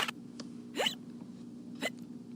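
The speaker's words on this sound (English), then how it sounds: "The hiccups stayed." A cartoon skeleton hiccups twice, two short, sharp rising yelps about a second apart, moderately loud over a quiet low background hum.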